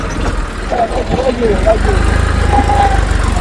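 A farm tractor's engine revs and runs at a steady rumbling idle out in a field, close and loud, with a faint voice briefly heard over it.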